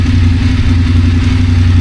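Close, steady idling of a Voge DSX 900 motorcycle engine, a continuous low throb with an even rhythmic pulse.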